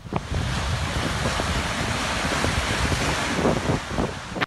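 Rough sea waves and surf pound a beach in Guam after a typhoon, a steady broadband roar with wind buffeting the microphone, loud and continuous throughout with no talk.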